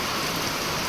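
Heavy rain pours down over farm fields in Gujarat, a loud, dense, unbroken hiss of falling water with no voices.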